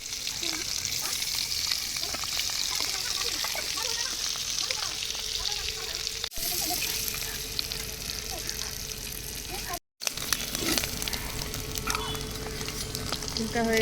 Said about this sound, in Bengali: এখন আমি হাঁসের ডিমটা তেল দিচ্ছি।